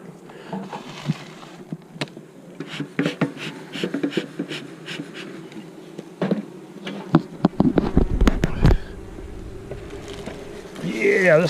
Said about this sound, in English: Yeah, this thing's full of bees.